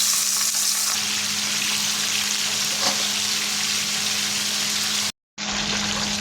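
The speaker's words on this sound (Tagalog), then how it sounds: "So, ipiprito na natin yung fish." Salmon steak frying in hot oil gives a loud, steady, crackling sizzle that runs unbroken, then cuts out abruptly for a moment near the end before resuming.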